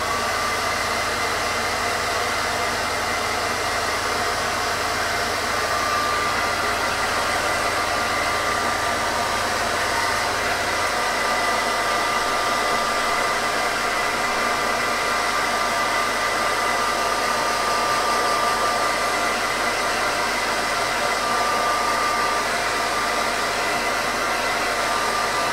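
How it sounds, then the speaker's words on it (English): Hairdryer blowing steadily and loudly, close by, over a freshly painted Darth Vader bust, a continuous breathy roar with no talk for the whole stretch. "Last blast of the hairdryer for now."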